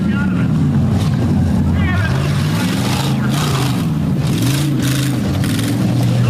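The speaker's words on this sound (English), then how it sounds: "Hear the thunder of exhaust systems begging for mercy" Several monster truck and tuff truck engines roar and rev loudly at a county fair show, pitch rising and falling as they surge toward a tabletop jump, with a voice talking over the din.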